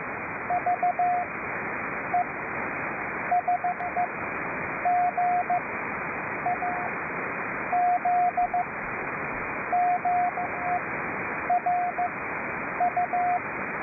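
Morse code (CW) tones beep in short on-off bursts over a steady hiss of shortwave radio static on a 3729 kHz amateur public service net, the keyed tone repeating in groups throughout.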